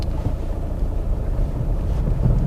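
A car creeps through deep floodwater on a road in first gear, clutch slipping at very low speed, giving a steady low rumble and wash of water with wind buffeting the microphone throughout, no voices.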